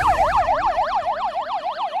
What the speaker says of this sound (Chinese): 这分贝超大的音频车就要利用声音吓走在航道上的鸟